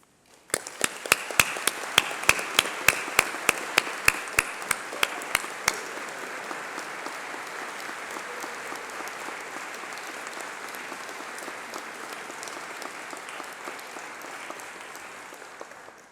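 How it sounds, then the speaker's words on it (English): A large crowd applauds at a university graduation ceremony in a hall. A few sharp, close claps start it, then it swells into sustained, even clapping for about fifteen seconds and slowly fades. "let's have a round of applause for all the special people, your family, friends, and your tutors"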